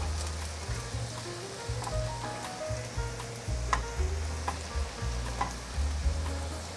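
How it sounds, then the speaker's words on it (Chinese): Sweet potato and flour patties pan-frying over medium-low heat, a continuous soft crackling sizzle with scattered pops, close and steady with a low hum underneath. "再继续用中小火，慢慢的给它煎熟，给它煎成焦黄色"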